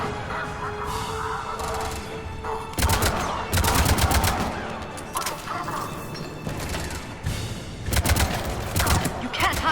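Rapid automatic gunfire bursts from a Mass Effect 3 firefight, loud repeated volleys clustered around a few moments with steady combat noise and rumble between them.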